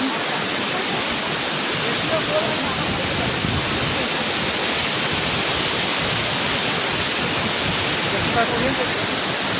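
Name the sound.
waterfall, water pouring down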